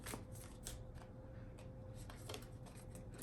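Tarot cards from a deck are shuffled and pulled during a reading, giving soft papery riffles and short card flicks in a quiet room over a faint steady hum.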